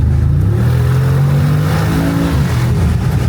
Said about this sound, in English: What I like about the Crescent is there's no speeding cameras, so we can rev.